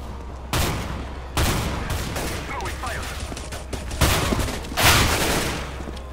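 Negev machine gun fire in the video game CS:GO, loud sustained bursts of rapid gunfire with short pauses between volleys.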